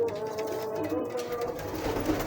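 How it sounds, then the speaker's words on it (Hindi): Ferozpuri breeding pigeons coo softly in a loft, a low steady murmur of overlapping calls under constant background noise, with a voice talking over them. "ये रिजल्टेड जोड़े हैं, बनाने वाले कबूतर।"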